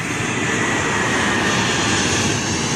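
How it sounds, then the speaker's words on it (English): A steady, loud engine roar from a low-flying plane out of Orlando International Airport fills the air as it passes close overhead, with no talking. "That is a plane from Orlando International Airport, which looks like it's about to fall on our head."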